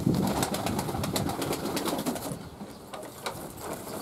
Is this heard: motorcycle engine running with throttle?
no